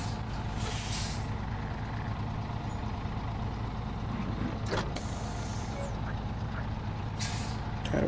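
A truck in SnowRunner, stuck and running in low gear, drones on at a steady low rumble, with several short sharp air-brake hisses cutting in.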